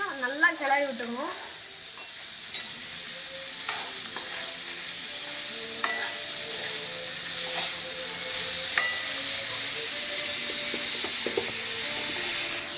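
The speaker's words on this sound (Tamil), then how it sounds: "இப்போ நல்லா நம்ம இதை கிளறி விட்டுருவோம். இது நல்லா நம்ம ப்ரௌன் ஆகுற வரைக்கும் நல்லா கிளறி விட்டுருவோம்." Onions sizzle and fry in a pan while being stirred until browned, a steady close hiss broken by faint scraping knocks of the spoon, with a short voice at the start.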